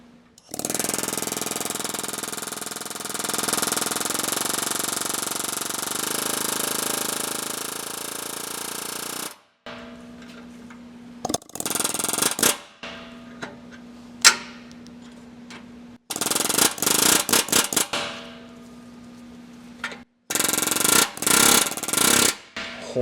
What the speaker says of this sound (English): Cover your ears because it's air hammer time.